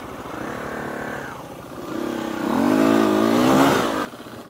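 A supermoto motorcycle at a dirt riding area with quads nearby revs up and down, its engine note rising and falling through gear changes, fairly close with no talking.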